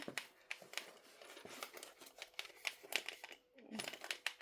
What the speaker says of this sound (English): It's a zipper pull hitting the plastic clip.